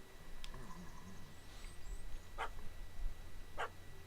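A dog barks twice in a The Witcher 3 game scene, sharp distinct yelps spaced apart over a low steady background hum, with faint game ambience and no talk.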